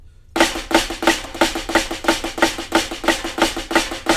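Drum flams played in a steady even rhythm alongside a click track, about a dozen crisp doubled strokes in quick succession, loud and close with no talking.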